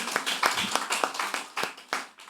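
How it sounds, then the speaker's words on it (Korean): Congregation in a church clapping loudly in celebration, a burst of dense, uneven applause that gradually thins out toward the end. "큰 박수로."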